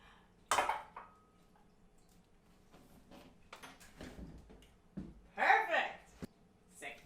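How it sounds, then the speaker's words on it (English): An egg cracked by a blindfolded baker making cupcakes gives a sharp crack near the start and another crisp break later, with kitchen clatter and people talking around it. "I am cracking the first egg."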